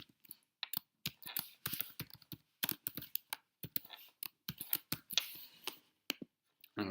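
Someone types a Python command on a computer keyboard in quick, irregular bursts of crisp clicks separated by short pauses, close and quiet with no talking.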